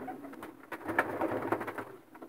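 A breeding pair of long-lived racing pigeons coos close by, with soft throaty pulsing calls repeating over a low, busy background murmur.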